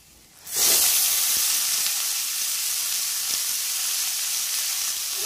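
Water spinach hits hot oil with garlic and erupts into a loud, sudden sizzle that settles into a steady, continuous frying hiss close by.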